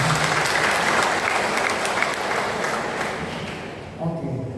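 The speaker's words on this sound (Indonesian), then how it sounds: "Tepuk tangan untuk mereka." A crowd at a Catholic thanksgiving celebration for priests' tenth ordination anniversary claps steadily, dense applause fading slightly before a voice begins speaking at the end.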